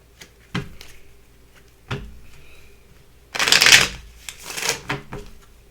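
A deck of Art of War oracle cards is handled and shuffled at close range, with several short separate riffles and a louder extended flurry of card shuffling in a quiet room.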